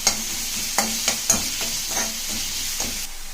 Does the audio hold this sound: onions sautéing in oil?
yes